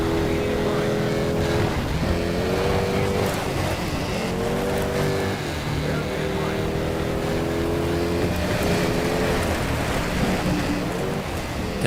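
Loud, continuous engine roar from a tuned Porsche bonus car drifting in the Sega Rally racing game, with rising and falling revs and tyre noise sustained throughout.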